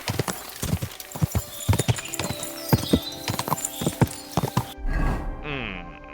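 Horse hooves clip-clop steadily in the medieval video game Kingdom Come: Deliverance II, a close, rhythmic trot of sharp hoof strikes that ends with a neigh and a snort.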